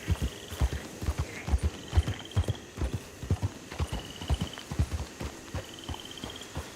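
Horse hooves clip-clop at an easy walking rhythm, crisp and close, with faint chirping birds in the background, in the video game Red Dead Redemption 2.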